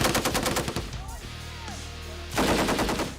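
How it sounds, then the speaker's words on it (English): M240 machine guns firing on a live-fire range, with dense rapid bursts of loud automatic fire at the start and again at the end around a short quieter gap. "Gunners adjust their elevation and keep firing."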